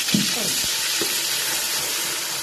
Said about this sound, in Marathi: तेल गरम झाले की मग आपण त्याच्यामध्ये मसाला घालू.